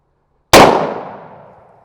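A single loud, close gunshot fired at a Cold Steel AD-10 knife, a sharp blast followed by a long ringing decay, with no talk.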